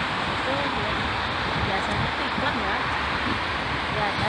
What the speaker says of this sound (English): And this is Aka River. You hear it.